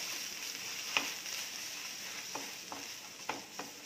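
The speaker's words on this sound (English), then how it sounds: "you can just saute it a bit in this butter" A low, steady sizzle of pizza sauce sautéing in butter in a pan, faint and continuous, with a few soft clicks and taps of stirring scattered through it.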